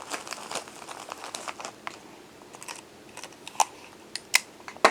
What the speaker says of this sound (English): I'm going to take the pouch and I am going to tape a straw on each one